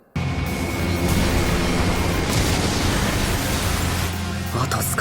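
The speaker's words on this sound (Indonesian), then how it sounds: "tiba-tiba terjadi ledakan dari sektor lain" An explosion in the anime World's End, bursting in abruptly after a moment of quiet and continuing as a loud, dense, roaring rumble for several seconds.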